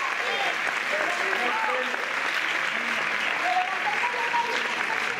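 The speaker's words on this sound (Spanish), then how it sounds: "Un aplauso para ellos." Steady applause from a crowd at a murga show in Palma del Río, Spain, many hands clapping continuously at even volume throughout, with faint voices mixed in.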